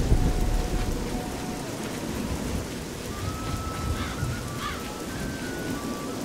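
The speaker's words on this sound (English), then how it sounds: "It is always raining here." Steady rain falls with low rumbling thunder in a rainy city in an Elder Scrolls game, the Leyawiin area, a continuous wash of moderate loudness with no voices and faint tonal game sounds drifting over it.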